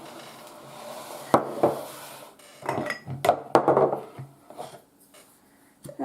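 A spoon scrapes and knocks around a bowl as ingredients are mixed for a creamy cheesy fish bake, with irregular bursts of clinking and rubbing between quiet gaps.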